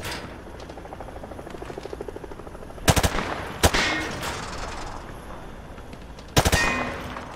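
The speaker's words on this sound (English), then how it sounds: "Grab that weapon off the table and fire at the targets behind you." A weapon firing at range targets in Call of Duty Modern Warfare 2 Remastered, a rapid stream of automatic shots followed by a few loud, sharp single cracks spaced seconds apart, close and clear.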